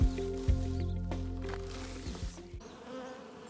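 Bees buzz close by around trimmed lavender, a droning hum that rises and dips as insects pass near, fading toward the end.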